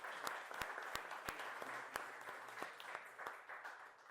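Audience applause at a lecture, a moderate crowd clapping in a steady scatter of sharp individual claps that carries on for several seconds at even loudness.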